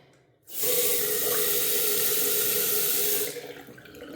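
Water gushes from a newly connected tap into a bathroom sink, starting abruptly, holding as a steady loud hiss for about three seconds, then cutting off and trailing into faint drips.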